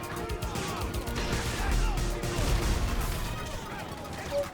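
Dense, continuous video game explosion noise with rumbling booms and crashes layered over each other, loud and sustained throughout with some talk mixed in.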